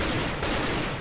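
Dense gunfire from the video game Counter-Strike on the de_inferno map rattles continuously for about a second, loud and close, with no voices.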